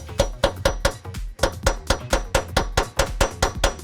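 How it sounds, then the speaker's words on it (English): Repeated sharp metallic hammer blows on a door hinge pin of a Jeep JK Wrangler, roughly three per second in a steady rhythm with a brief pause, loud and close. "WD-40 and a hammer seems to do the trick"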